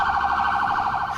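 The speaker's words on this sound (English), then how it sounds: "With lights flashing and sirens sounding, we fight our way through the congested streets of Bangkok." A loud, steady emergency siren on a rescue vehicle in congested Bangkok streets, wailing in a fast, even warble, close by and continuous throughout, with no talking.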